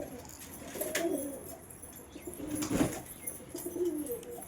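Pure Chennai breed pigeons coo softly while drinking water, low rolling coos repeating at close range over faint background noise, with a few brief higher chirps.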